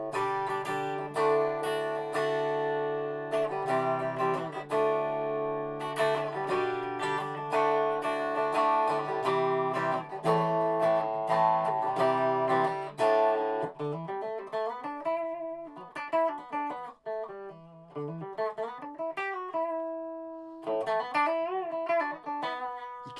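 A 2015 Gibson Les Paul Junior electric guitar plays clean with no vocals, first strummed chords and quick picked notes, then slower single-note lines with pauses, clear and close.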